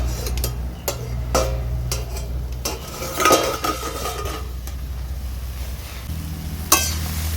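Cooked long beans stirred in a pan: a spatula scraping and clinking against the metal in irregular strokes, with a soft low sizzle underneath and a sharp clank near the end; no voices.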